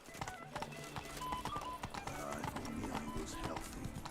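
Horse hooves clip-clop at a steady trot in The Witcher 3: Hearts of Stone, a quick rhythmic string of hoof strikes under someone talking.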